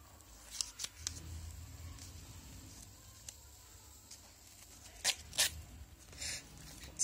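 Scissors cut card paper for a handmade teachers' day card, giving a few quiet, close snips and crisp cuts, with soft handling rustle and longer gaps between them.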